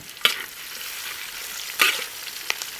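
Two sliced onions sautéing in a pan for orange chicken, with a steady soft sizzle and three sharp scraping clacks as a utensil stirs them, close and fairly quiet, no talking.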